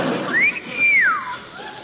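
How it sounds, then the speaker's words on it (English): A sailor whistles for a cab on a radio show, one loud, close two-note swooping whistle that rises, holds, then falls away. "He's only whistling for the cab."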